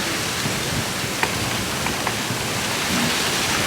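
Steady rain falls at Magic Kingdom with a dense, even hiss, and a few soft drips and taps stand out now and then. Nobody speaks.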